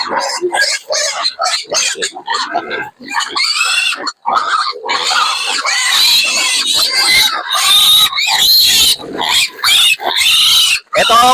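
Piglets on a farm squeal and grunt loudly and excitedly at feeding time, a dense, close chorus of high shrieks and grunts with brief gaps, continuing throughout.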